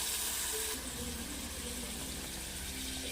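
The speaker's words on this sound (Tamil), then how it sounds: "அரை டம்ளர் அளவுக்கு தண்ணி ஆட் பண்ணிக்கிறேன்" Half a tumbler of water pours into a pan of garlic pepper egg fry briefly at the start, followed by a faint steady bubbling hiss nearby.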